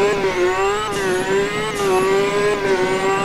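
A car engine revs loudly in the Roblox driving game Driving Empire. It holds a steady buzzing note that repeatedly climbs in pitch and drops back sharply at each gear shift, with no voices.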